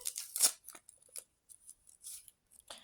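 Crinkly rustling and a few sharp snips and tears as a paper packet is opened, close up, in short bursts with brief pauses.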